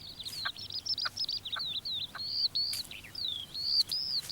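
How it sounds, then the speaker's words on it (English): Red-legged partridges call from a field margin in a hedgerow landscape: a rapid series of sharp, chirping notes, close and clear over quiet rural background. "like these red-legged partridges that scratch a living at the margins of the fields"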